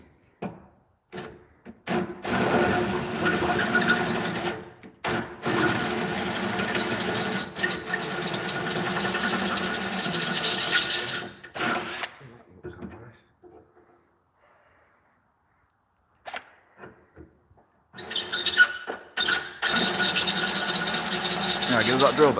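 A power drill with a blunt bit squeals harshly in long shrill bursts while boring, separated by brief pauses and near-silence, with a few short bursts near the end, during work on a Scania 143 restoration.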